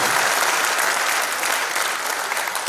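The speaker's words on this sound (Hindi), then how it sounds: "ताली बजाकर एक बार पुनः उनका स्वागत करें" An auditorium audience at a stage event with drama and speeches breaks into loud, sustained applause. The dense clapping holds steady throughout and no voices rise above it.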